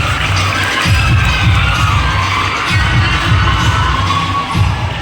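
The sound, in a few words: applause and cheering at school prize ceremony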